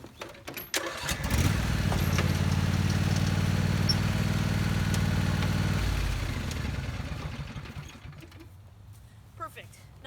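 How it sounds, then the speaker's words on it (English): A tractor engine on a spring garden plot chugs into a steady loud drone as the machine moves forward, holding for several seconds before winding down and fading into quiet with a few faint clicks. "So I'm gonna move the bed up and maybe move the tractor forward a little bit and then unload it there."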